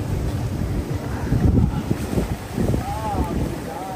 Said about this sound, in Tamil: தண்ணி அப்படியே அடிக்குது உடம்பு ஃபுல்லா.